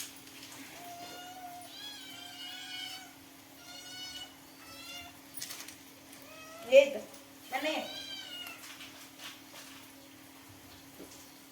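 Domestic cats meow repeatedly at home over a constant low hum, with drawn-out calls early on and a louder pair of meows later.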